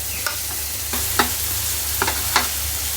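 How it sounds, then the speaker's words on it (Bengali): Potatoes and egg bhuna fry in a pan, a steady close sizzle broken by a few sharp stirring scrapes, with no talking. "ডিম ভুনার সাথে দুইটা আলু কেটে দিয়ে দিই"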